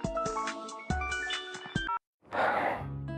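A phone rings with a tonal, melodic ringtone in repeated bursts, then breaks off, followed by a breathy, noisy sound that may be a sigh.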